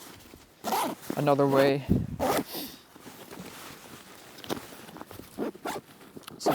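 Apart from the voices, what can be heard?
zippers on Vanquest Ibex 30 backpack being pulled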